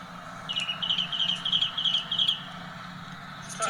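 Birds chirping at night around midnight in Elk Grove, California, a steady run of rapid high twittering calls repeating for a few seconds over a low background hum, with no talking.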